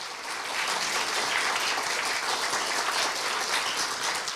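Steady applause from an audience at a university staff retirement ceremony during a commemorative gift presentation, even and sustained throughout, moderately distant, with no talking.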